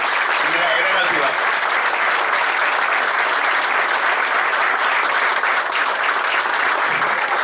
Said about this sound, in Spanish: pido un aplauso también para él, que fue una gran ayuda